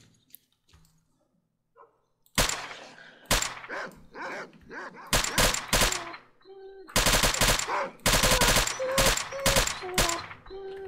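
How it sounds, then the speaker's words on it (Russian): Gunfire from shooting at dogs in the S.T.A.L.K.E.R. video game: loud bursts of automatic fire in rapid clusters, with several pauses between them and dog barks mixed in. "Давайте прямо сейчас собак постреляем."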